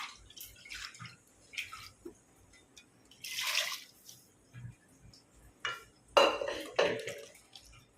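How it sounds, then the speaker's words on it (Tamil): Water splashes and trickles in short bursts against a metal pressure cooker being rinsed out, with clinking and a louder sloshing pour near the end, close by. "இப்போ கொஞ்சமாக தண்ணி வச்சு குக்கரை கழுவி ஊற்றிக்கணும்."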